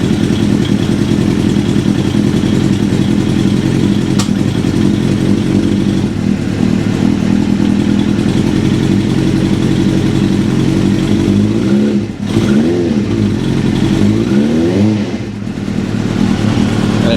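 A 1996 Suzuki GSX-R 750 SRAD track bike fitted with Keihin FCR39 carburettors idles roughly after a cold start with no choke, giving a loud, close, steady mechanical rattle and a low engine drone, with a couple of brief throttle dips.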